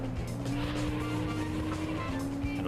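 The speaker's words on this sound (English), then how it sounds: "Car sounds very bassy." A car engine in the racing video game Auto Modellista drones steadily with a deep, bassy tone and a low muffler hum, with faint tire noise on top, continuous and close throughout.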